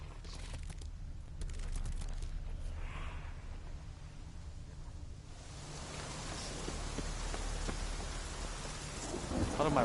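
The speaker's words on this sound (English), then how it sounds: "It's getting late, there's a thunderstorm," Thunderstorm over a haunted swamp at night in The Witcher 3: Wild Hunt, a quiet steady rain hiss with low thunder rumble that swells louder toward the end, no talk.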